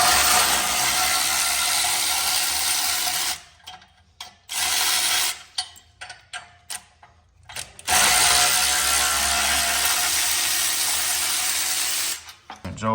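Ratchet wrench clicking in quick bursts as the exhaust header bolts come off a CFMOTO CFORCE 800 ATV, worked from the left, gear-shifter side; the ratcheting is close, in broken spurts between pauses, over a steady hiss of workshop noise.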